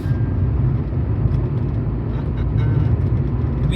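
A car cruises along the Mumbai-Pune Expressway during the monsoon, giving a steady, continuous low road and engine rumble with a faint whir, and no talk.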